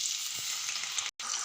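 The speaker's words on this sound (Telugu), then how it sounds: "ఒక కళాయి పెట్టుకొని దాంట్లో తగినంత నూనె వేసుకొని, ఈ నూనె బాగా కాగినాక ఇవి వేయించుకోవాలి" Peanuts and tempering seeds fry in hot oil in a kadai, giving a steady, close, bright sizzle that drops out for a split second near the end.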